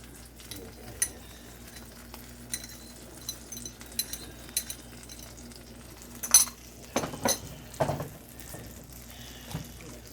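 Carrots being stirred and mixed with a pungent seasoning in a pan, soft scraping and light clinks of a utensil with a faint sizzle beneath, growing busier toward the middle with a few sharper knocks.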